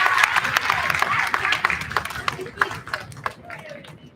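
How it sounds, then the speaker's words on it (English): A small group claps for an award recipient during a remote awards ceremony, a brisk burst of hand claps that thins out and fades toward the end. "let's give a nice round of applause for Roland"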